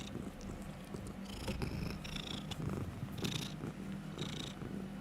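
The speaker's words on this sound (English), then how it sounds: "purring for them" A pet cat purrs in a soft, continuous rumble with rhythmic breathing swells, faint and close, under a low background hiss with no voices.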